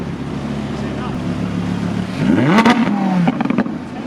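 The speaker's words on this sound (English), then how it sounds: "Sorry, can you rev it?" Audi R8 V10 Le Mans Edition engine revving from idle into a sharp rising blip around the middle, with a second shorter rev near the end, loud and close, amid outdoor background noise.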